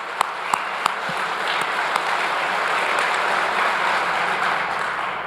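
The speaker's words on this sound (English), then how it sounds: "Big round of applause." A rally crowd applauds in a state capitol rotunda at a Convention of States event in Iowa, a steady wash of many hands clapping throughout, with a few sharp nearby claps standing out.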